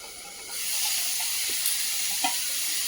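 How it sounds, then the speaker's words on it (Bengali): Potatoes and broccoli fry in oil in a kadai, a steady bright sizzle that swells in after a quiet start, with a couple of soft stirring knocks and no talk. "এবার দেখে নেব আলু এবং ব্রোকলি খুব সুন্দর করে ভাজা হয়েছে নাকি"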